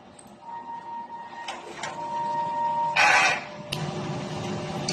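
A DTF printer runs its print head heat-cleaning cycle: close mechanical whirring with faint tonal beeps, a few sharp clicks, and a louder burst of carriage motor noise partway through, followed by steady hum.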